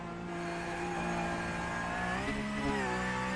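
Race car engine revving hard while climbing a hill, a loud, steady mid-pitched drone close by that rises and wavers as the wheels lift off the ground, with no talk over it.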